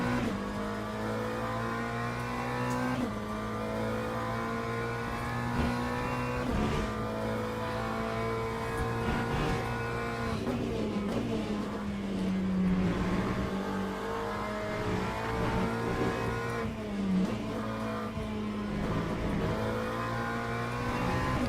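BMW race cars in Le Mans Ultimate on track, a steady loud engine whine that rises and falls in pitch through gear changes and corners, with other cars' engines faintly around it.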